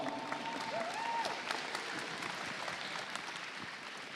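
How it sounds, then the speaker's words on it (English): A crowd at the FTC 2023-2024 Oregon State Championship robotics event applauds steadily to welcome a speaker, a broad wash of clapping with faint cheering in a large echoing hall. "Let's give him a big round of applause."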